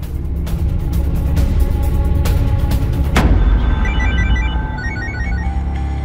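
A telephone rings in a quiet room during a police investigation, its electronic ringtone warbling in repeated bursts over a steady low background hum, close and clear with no voices.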